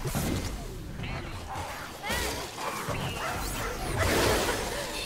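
A dog barks in the video game Sunset Overdrive, short yips and barks mixed into busy game action with whooshes and crashes, moderately loud over constant background noise.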